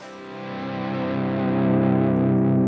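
Electric guitar played with heavy effects and distortion, sustained chords warbling and bending in pitch from whammy bar use, loud and up close with no talking.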